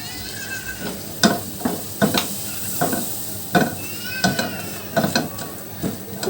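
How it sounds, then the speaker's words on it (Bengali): Flour fries in a pan for a white sauce, a soft background sizzle broken by sharp, close scraping and tapping strokes of a spatula against the pan at irregular intervals. "ময়দাটাকে খুব ভালো করে ভেজে নিতে হবে।"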